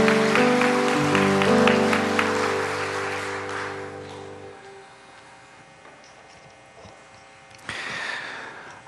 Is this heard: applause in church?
yes